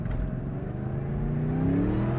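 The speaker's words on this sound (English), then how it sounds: "Listen to that Supercharger." A 2003 Ford Mustang SVT's supercharged engine accelerates with traction control off, its tone climbing steadily with a rising whine layered over the exhaust, close and continuous with no talk.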